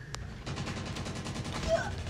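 In Call of Duty Mobile, a shotgun fires among a rapid string of close shots, about a dozen bursts in quick succession over game background noise.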